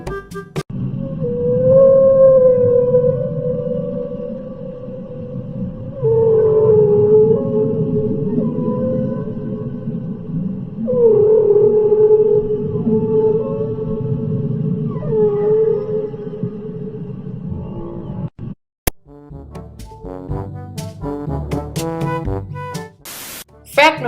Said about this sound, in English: let me show you the sound of a blue whale